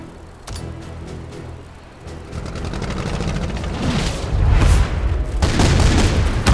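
Ultra tanks firing in the strategy video game Earth vs Mars Demo, building into loud booming blasts and rumbling explosions that grow heavier and denser over the final seconds.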